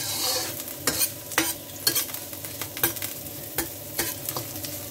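Ingredients are stirred and sautéed in a pan for spicy coconut prawns, a steady close sizzle with repeated scraping strokes of a utensil at a slow, even rhythm, and no voices.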